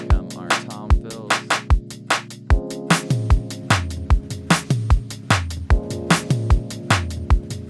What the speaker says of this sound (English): Here come our tom fills.